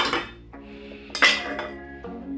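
Ceramic dishes clinking and clattering as they are picked up and set down, a few bright knocks close by.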